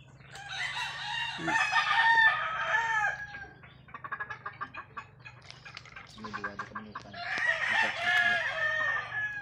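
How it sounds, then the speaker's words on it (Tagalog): Backyard chickens cluck in soft, rapid pulses between two loud, near rooster crows, one at the start and one at the end. "Manadigali ang ilang manukan."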